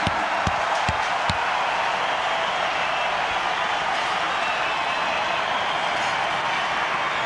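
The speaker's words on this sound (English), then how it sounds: "That's got the crowd on their feet." A football crowd at a Kingz home match against Canberra roars and cheers after a goal, a loud, steady wall of noise that holds for the whole stretch with a few sharp knocks early on.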